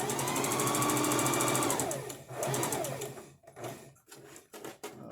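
A sewing machine stitches group shapes, running in a fast, steady hum before slowing for a corner and pivot, then working in short, halting bursts of stitches.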